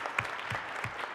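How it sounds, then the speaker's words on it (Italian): Steady applause from an audience in an assembly hall, an even patter of clapping through the whole short stretch with no voices. "quest'Aula tributa un applauso"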